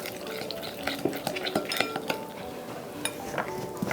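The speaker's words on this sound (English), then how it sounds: "About a teaspoon of salt and a little dash of pepper. Mix that all together." Salt and pepper being mixed together in a bowl while preparing holiday side dishes, heard as a series of close, light clinks and scrapes of a utensil against the bowl.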